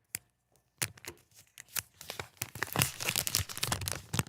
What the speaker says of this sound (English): Listen to the sweet sounds of the plastic unwrap.